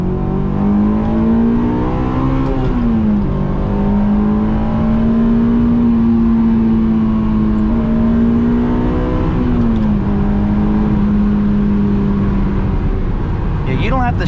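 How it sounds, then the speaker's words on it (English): 2007 Honda S2000 AP2 engine runs loudly from inside the car while driving, a steady drone with the pitch rising and falling as revs change. "you don't have to shift at redline in third to hold VTEC in fourth"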